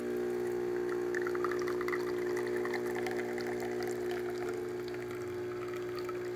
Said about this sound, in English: Now the new installed water pump will push water to the entire system, and as you can see, it's already coming out through the spouts.